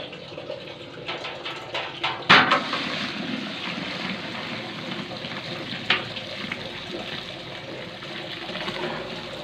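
About 60 kilos of water pours steadily into a large pot for making sharbat, a continuous splashing rush with a few louder sloshes near the start and no voices.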